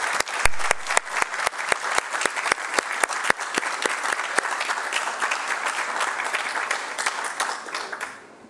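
An audience at a national music award ceremony in Paraguay applauds steadily, a dense wash of clapping with sharp individual claps standing out, sustained throughout and fading at the end.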